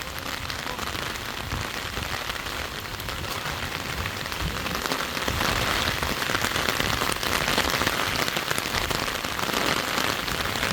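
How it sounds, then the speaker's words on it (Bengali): Heavy rain pours down in a riverside village, a dense, continuous hiss of drops drumming on surfaces that swells slightly louder midway, with no talk over it. "প্রচুর পরিমাণ বৃষ্টি হইতেছে।"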